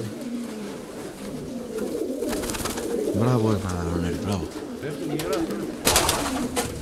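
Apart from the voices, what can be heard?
racing pigeons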